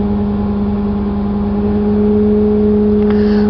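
A school bus engine with a dual air brake system revs up and holds a steady, humming drone at raised RPM to build air pressure, the tone rising slightly in loudness near the end, with no talking.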